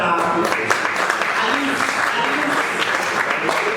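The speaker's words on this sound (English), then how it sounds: "You guys should clap now." Loud, continuous clapping from an audience at a tech talk as an agent is deployed, dense and steady throughout with some cheering mixed in.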